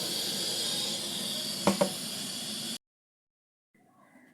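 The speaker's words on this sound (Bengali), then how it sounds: "গ্যাসটা ধরাচ্ছি বন্ধুরা" A gas stove burner is lit while chicken biryani is being cooked, giving a steady close broadband hiss of gas with two quick clicks of ignition, then a sudden cut to near silence and faint low rustling.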